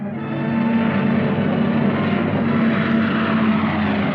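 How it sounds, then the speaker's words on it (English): Propeller cargo planes flying over the hump to China in wartime Burma, a steady droning engine roar that holds loud and continuous throughout, with no speech. "Cargo planes shuttled back and forth over the hump to China."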